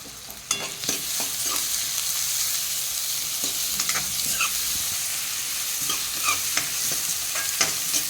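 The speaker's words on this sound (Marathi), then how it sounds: "अशा प्रकारे फ्राय करून आपण कांदा घेत आहोत।" Chopped onion fries with mustard seeds and cumin in a hot pan, a steady close sizzle broken by frequent spoon scrapes and clinks as it is stirred; no voices.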